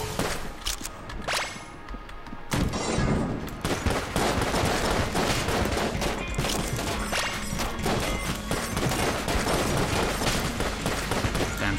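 Rapid, dense gunfire from shadow bullets in the video game Enter the Gungeon, a loud, continuous barrage of overlapping shots and impacts that starts after a brief quieter moment and runs without pause.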